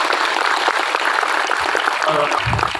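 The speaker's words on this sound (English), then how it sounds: "Everyone, please give a big round of applause and welcome for Dr. Bimol Akoija." An audience at a Hyderabad Manipur Society sit-in protest breaks into loud, dense applause welcoming a speaker, sustained and close, with faint voices emerging near the end.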